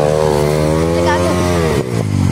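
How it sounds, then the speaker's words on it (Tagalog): Several motorcycles rev close by on a road ride, a loud droning engine roar that swells and dips briefly near the end, with voices faintly under it. "Iyak na ang mga motor."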